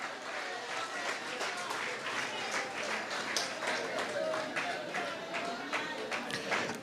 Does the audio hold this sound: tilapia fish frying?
no